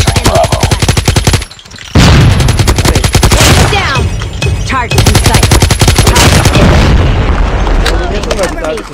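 Rapid, sustained light machine gun fire from Call of Duty Mobile, loud and close, with dense rhythmic bursts rattling on for nearly the whole stretch under a speaking voice, broken by one brief pause.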